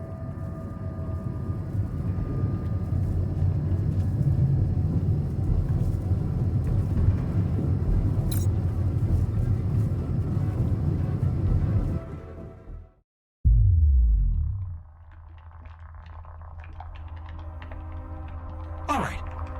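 A deep, continuous storm rumble from the video game The Alters, a loud, steady low roar that cuts out abruptly near the end, followed by a brief thud and a quieter rumbling tail.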